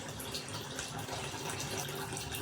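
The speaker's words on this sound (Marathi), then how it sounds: "मी रव्यामध्ये पाणी टाकत आहे" Water poured into semolina (rava) in a bowl to wash it, a steady close splashing and gushing pour with no pauses, moderately loud and heard alone.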